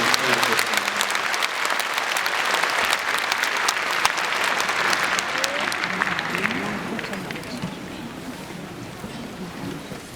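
Loud, sustained applause from a congregation at a Catholic bishops' ordination celebration in Seoul, a dense wash of clapping that fills the whole stretch and thins slightly toward the end.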